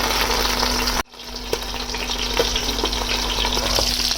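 Chira fish frying in a covered pan gives a steady, loud broadband sizzle that drops out abruptly for a moment, then resumes with faint scattered pops and crackles; no one speaks.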